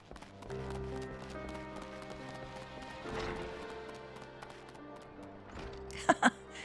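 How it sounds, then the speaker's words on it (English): Footsteps in the game Final Fantasy XIV: Heavensward, a run of rhythmic clip-clopping steps like hooves, moderately loud over a sustained musical score, ending with two sharper, louder knocks near the end. "what are those footsteps I'm hearing?"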